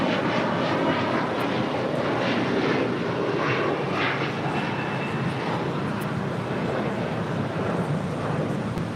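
An Air Canada jet bound for Tokyo Haneda taxis along a taxiway at LAX, its engines giving a steady, loud broadband roar with a faint whine that holds evenly throughout, with no voices.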